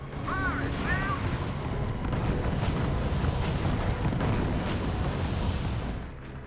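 Gunfire and artillery pounding units in the strategy game R.U.S.E., a dense continuous rumble of distant blasts and shots that runs throughout, with brief chirping radio-like tones near the start.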